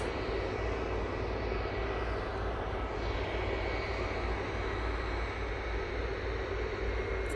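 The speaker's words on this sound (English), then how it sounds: "And there is the Qatar 777 about to arrive." A Qatar Airways Boeing 777 arriving rumbles with a broad, sustained engine roar and a deep low-end drone, steady and fairly loud from start to finish with no other sounds standing out.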